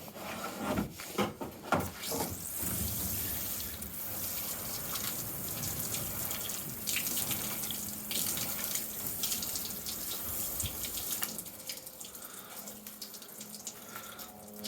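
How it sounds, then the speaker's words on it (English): Water runs steadily from a tap, rinsing a surface during tyre cleaning, with rubbing and scrubbing noises mixed in and no talking. "Let's rinse off."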